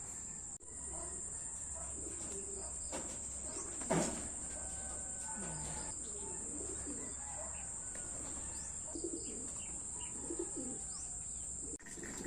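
Young racing pigeons cooing in a loft, with soft repeated coos and a few chirps over a constant high insect-like hum, a brief flutter partway through, and no talking.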